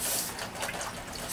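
Scrubbing in water, pH-raised with an alkalinity booster, after a muriatic acid rust treatment: a steady wet sloshing and rubbing, close and continuous, with no voice.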